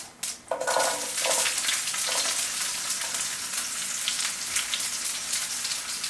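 Dried garlic dropped into hot oil with mustard seeds, cumin and asafoetida, a sharp burst of sizzling at the start that settles into steady loud crackling and spattering.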